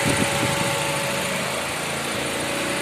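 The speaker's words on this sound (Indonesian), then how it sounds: "Kipas yang mesin tuh hidup." Steady whirring hum of a Chevrolet Blazer's radiator fan running close by, mixed with a light engine drone.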